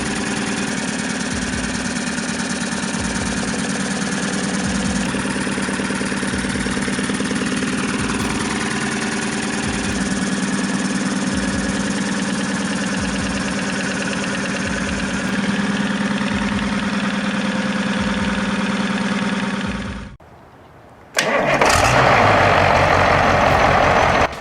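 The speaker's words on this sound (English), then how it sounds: "The Caterpillar 3208 LV8 is more than an engine. It's a diesel legend." A Caterpillar 3208 V8 diesel engine of 10.4 litres with gear drive runs at a steady, loud idle with a regular low pulsing throb. It cuts out briefly near the end, then a sharp burst of noise follows.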